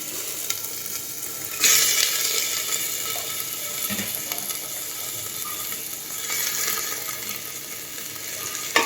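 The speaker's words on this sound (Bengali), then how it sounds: "এবার দিয়ে দিচ্ছি পেঁয়াজ কুচিগুলো" Chopped onions hit hot oil with spices and crackle into a loud, close sizzle, broken by scraping, clicking stirs against the pan; the hiss swells when the onions go in and continues steadily, with no talk.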